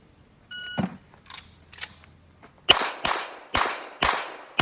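Pistol shots ring out on a USPSA shooting stage: a few scattered reports and a beep at first, then five loud, sharp gunshots in a quick, even rhythm, close by, with no talking.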